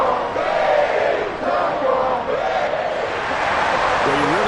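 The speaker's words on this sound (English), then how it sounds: "And the home crowd applauding." Home crowd at a sports arena applauding and cheering after a close game, a dense steady roar with a voice talking over it.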